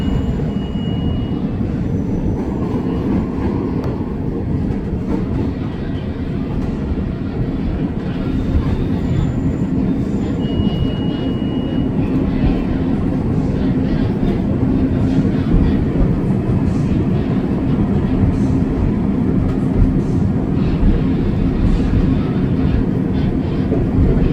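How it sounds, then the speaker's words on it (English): A loud, continuous low rumble of a train passing in downtown Chicago fills the whole stretch, steady and close, with faint squeals riding on top. "And a train."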